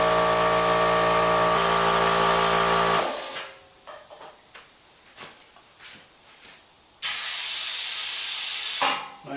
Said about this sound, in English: we'll crank in the bottom one, which is the exhaust for the ram to move down.